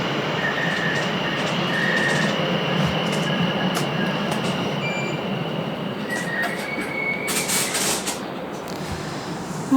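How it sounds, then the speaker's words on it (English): A Greater Anglia train bound for London Liverpool Street runs through St Margarets station on the New River Line, a steady loud rumble with metallic wheel squeals and faint clatter, no talking. "Greater Anglia service to London Liverpool Street."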